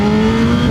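A second-generation BMW S1000RR superbike engine revs hard and steady, a loud, close, sustained high-pitched howl with a strong constant tone throughout.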